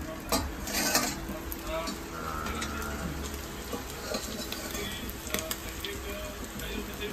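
Kingfish pieces coated in semolina frying in a pan, a close crackling sizzle broken by utensil scrapes and clinks against the pan, with talk faintly in the background.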